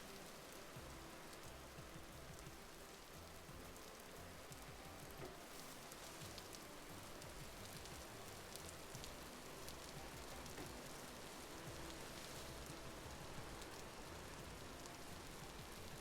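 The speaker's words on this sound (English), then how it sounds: "No, that's just the rain, Sedge." Rain falls steadily in the survival video game Vintage Story, a soft, even hiss of drops on surfaces that holds at a constant low level throughout with no voices over it.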